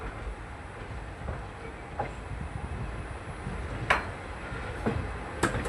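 Steady rolling rumble from inside a special passenger train running from Amarsar near Wankaner to Morbi, with sharp wheel clicks sounding now and then over the continuous noise.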